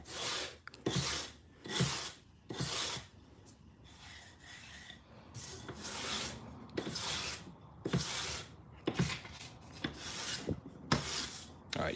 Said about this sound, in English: We could honestly just sand off all this stuff